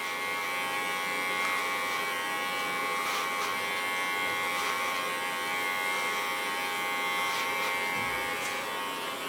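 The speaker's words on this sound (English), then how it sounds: "Even my clipper sticks into it." An electric hair clipper buzzes steadily through thick hair during a haircut, a close, continuous drone with slight shifts in strain as the blades push through, and no voices.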